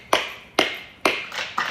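Several sharp, separate claps ring out about half a second apart, close and crisp, each with a short echo and nobody talking over them.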